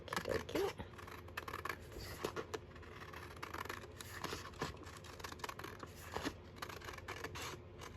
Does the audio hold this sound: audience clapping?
no